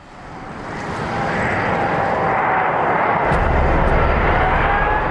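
Airbus A380 airliner roaring past, a broad jet-engine rumble that swells from quiet to loud and holds steady, close and powerful with no voices.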